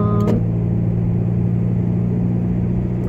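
Steady low engine rumble of a car driving through Northam town, continuous and fairly loud, with a brief higher tone near the start.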